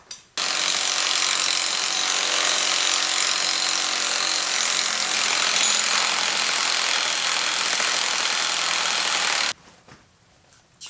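An impact wrench drives bolts on a dirt bike during an anti-vibration bar installation, producing one loud, continuous, harsh mechanical whir that runs for about nine seconds before cutting off abruptly.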